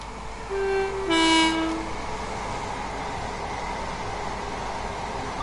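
A train in the Train Sim World 2 video game sounds a two-tone horn as it makes a flyby across a river, followed by a steady rolling rumble of the passing train that carries on to the end.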